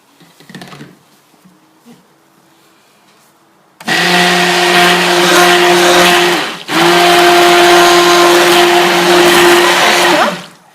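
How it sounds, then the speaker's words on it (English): A stick blender mixing soap whirs loudly and steadily, pausing briefly once before starting again, after a few quiet moments of faint handling. "now we're going to blitz it in with a stick blender"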